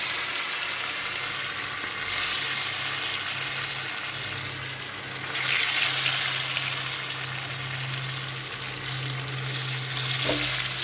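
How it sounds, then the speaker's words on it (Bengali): Pieces of lentil cake (dhoka) fry in hot oil in a steady, loud sizzle that swells and fades as batches are stirred, with no voices. "ভালো করে এগুলোকে লাল লাল করে আমি ভেজে উঠাবো"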